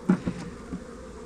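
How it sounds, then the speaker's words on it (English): A swarm of bees buzzes steadily and close by during hive handling, a continuous hum with a couple of louder swells near the start. "Come on, little bees, come and live in this house with these bees."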